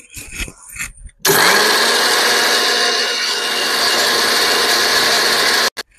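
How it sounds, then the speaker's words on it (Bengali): After some knocking and handling, an electric mixer grinder whirs loudly and steadily for about four seconds as it grinds roasted mango for a mango drink, then stops sharply. "এবার চলো এটা আমি বেটে নিই, সুইচটা দিয়ে দিই।"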